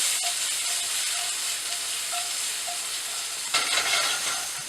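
Bell peppers frying for jambalaya give a loud, continuous hiss and sizzle with small crackles, swelling into a brighter spatter near the end and never pausing.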